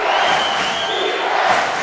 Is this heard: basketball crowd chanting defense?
yes